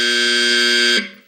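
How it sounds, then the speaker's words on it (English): Game show buzzer from a 1973 syndicated panel show, one loud sustained harmonic buzz holding steady for about a second and then cutting off abruptly, leaving a brief fading tail. "the buzzer rang and it stopped right there"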